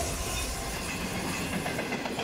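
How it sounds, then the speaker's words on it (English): Australian freight train passes close by on the railway, a loud continuous rumble and rattle of wagons with rhythmic clatter from the wheels, steady throughout. "When the train goes past."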